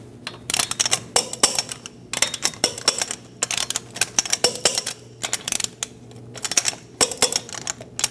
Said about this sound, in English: Torque the wheels in a star pattern to 79 foot-pounds